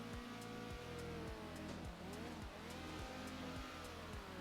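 A race car engine in Circuit Superstars screams through a flying lap, revving up repeatedly with quick gear-shift drops in a steady, droning rhythm at a constant close distance.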